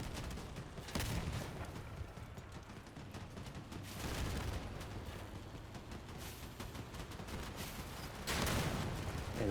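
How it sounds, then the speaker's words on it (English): Dense, continuous gunfire from vehicle-mounted weapons in the combat game Crossout, a steady loud barrage with heavier booming surges near the start, middle and end. "Go on, shoot his guns, guys, shoot his guns."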